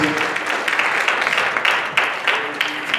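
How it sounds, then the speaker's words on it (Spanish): Church congregation applauding together, a steady wash of many hands clapping at a moderate, even level with occasional louder bursts, sustained throughout without clear talk over it. "Denle un aplauso a Jesucristo."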